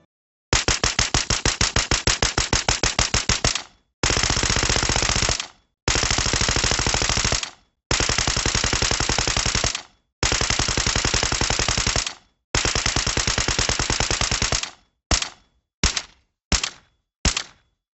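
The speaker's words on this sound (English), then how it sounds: "this is what they specify that this weapon would sound like when it is silenced" Rapid bursts of suppressed automatic gunfire from a video game weapon, a long stream and several shorter volleys, then a few quick short bursts at the end, loud and close.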